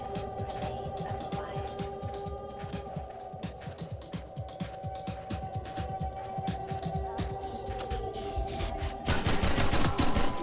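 A Combine cop fires a submachine gun in Half-Life 2, long rapid bursts of close gunfire over a droning background, ending in a louder burst near the end.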